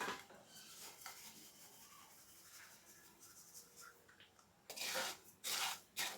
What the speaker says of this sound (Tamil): ரெண்டையுமே நல்லா வறுத்துப்போம்